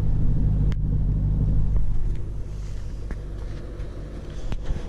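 A deep, throaty Lexus GS400 V8 engine rumble idles low and steady, with a few soft clicks and no voices.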